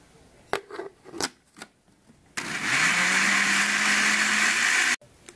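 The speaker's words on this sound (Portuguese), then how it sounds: "então, eu coloquei a polpa e o açúcar, e agora eu vou bater" A blender whirs steadily for about two and a half seconds, blending bacuri pulp with sugar for juice, after a few short knocks and clatters in a home kitchen.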